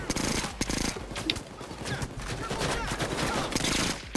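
Rapid bursts of gunfire in the video game Payday 2, a dense, continuous rattle of shots with sharp cracks, fairly loud for the whole few seconds.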